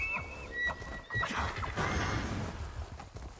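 A weird-looking horse in the video game Elder Scrolls Online clip-clops along with a whinny, the hoofbeats loud and close over a busy background of game ambience, with no talking.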